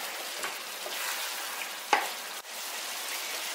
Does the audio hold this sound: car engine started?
no